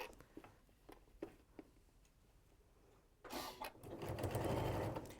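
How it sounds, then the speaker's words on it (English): A sewing machine runs a line of stitching along the nearest crease of a fabric edge, starting with soft, sparse ticking and then swelling into a loud, steady whirring hum that continues to the end with no talk. "I'm just going to sew in the nearest crease to this edge here, all along."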